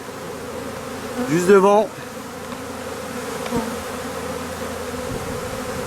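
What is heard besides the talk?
cluster of honey bees buzzing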